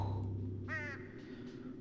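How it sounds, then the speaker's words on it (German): Ambient birds in the video game Oddworld: Abe's Exoddus give a single harsh, crow-like caw followed by two fainter, shorter calls over a low, steady drone of background music. "Dann die Vögel dabei."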